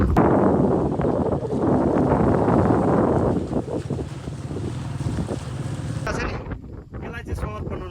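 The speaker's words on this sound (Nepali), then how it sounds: "एकदम चिसो हावा आइरहेको छ" Cold wind blasts across a hilltop in the hills, a loud, rough buffeting roar against the microphone that eases slightly toward the end, where voices briefly come through.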